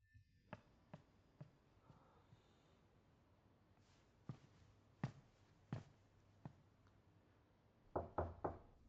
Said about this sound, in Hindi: जोरान, दस्तक मत करो